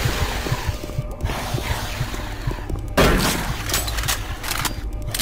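Repeated gunshots against an enemy in the Doom 3 video game, a series of loud close blasts with one heavy impact midway, over steady game background noise.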